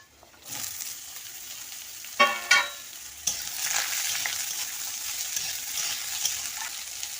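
Potatoes and eggplant fry in oil in a pan, a steady sizzle with a few scraping stirs and a louder burst of frying partway through, close by with no talk.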